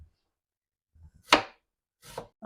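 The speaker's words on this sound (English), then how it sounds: "we're going to go ahead and cut, and I'm going to go ahead and use a whole onion" A knife chops through a whole onion with a few separate, close, crisp strikes spaced about a second apart, with quiet gaps between them and no talking.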